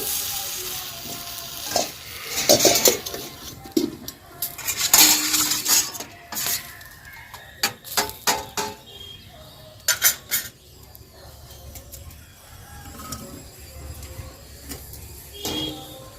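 Okra being sliced for chutney in a home kitchen, with scattered knife taps and clinks of utensils against a board or plate, irregular and moderately close, with no talking.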